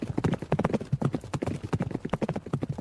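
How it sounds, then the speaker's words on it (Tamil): Horses' hooves clip-clop in a quick, steady rhythm as they pull a chariot, close and distinct, with the dense overlapping beats of several animals trotting together. "திசைவாளரினுடைய எண்ண ஓட்டத்துக்கு தகுந்த மாதிரியே அந்த குதிரைகளும் போய்கிட்டு இருந்துச்சு"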